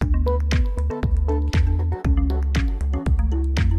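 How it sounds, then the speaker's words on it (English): A watery drip sample plays within a house beat, rhythmic plinking drips layered over a steady kick drum and bass line, loud and continuous with no voices. "I really like this weird drippy sound in this one"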